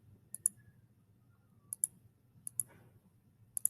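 Calculator buttons pressed in short bursts of sharp plastic clicks, a pair or cluster every second or so, close and fairly quiet over a low background hum, with no talking.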